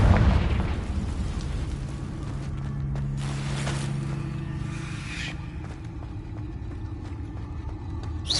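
Confringo blasting curse explosion in a Harry Potter video game, an opening boom that settles into a rumbling decay, with smaller pops and debris following.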